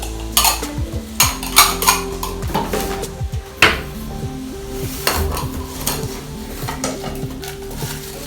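Tupperware plastic plates and bowls handled and set down, a string of light clattering knocks and scrapes of plastic against plastic and a hard surface, close and irregular, with no talking.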